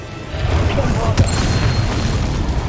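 A Bombarda blasting spell goes off in Hogwarts Legacy, a sharp boom at mid-clip over a steady low rumble of game ambience, with a voice speaking in the background.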